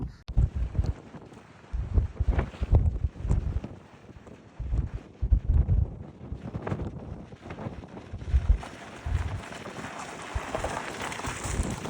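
Very strong wind in the Spiti Valley buffeting the microphone outdoors, loud irregular rumbling gusts that rise and fall throughout.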